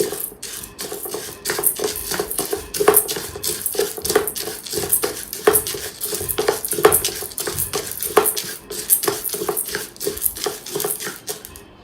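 Urad and toor dal dry roasting in a pan, with a steady rhythm of spatula scrapes and light clinks against the metal, fairly close and continuous, with no talking.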